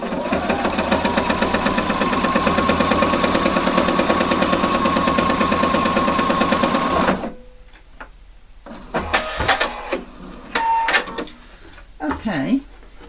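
A sewing machine runs a steady, buzzing stitch through only the top layer of denim on a jeans button fly, about two millimetres from the edge, then stops abruptly; someone talks afterward, with a few light handling sounds.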